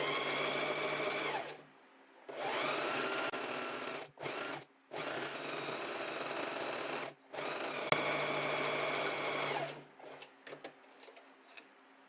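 A sewing machine stitches fabric for a summer top in three long, loud, steady runs of rapid mechanical whirring, separated by short pauses with small clicks as the fabric is repositioned.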